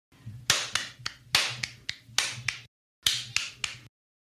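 Crisp finger snaps in a bouncing Celtic jig rhythm, close and clear, falling in lilting groups of three with a short pause before the final phrase, alone without talk.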